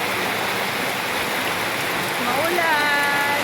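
Steady rain pours outdoors on a wet Sunday in the countryside, a dense continuous hiss close by, with faint voices and a few chirping tones rising briefly near the end.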